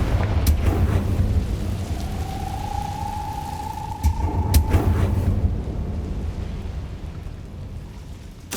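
A Confringo spell blast in Hogwarts Legacy, a loud rumbling explosion with a rising whistling streak and a sharp crack, fading into a long low roar.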